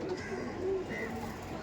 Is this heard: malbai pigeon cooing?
yes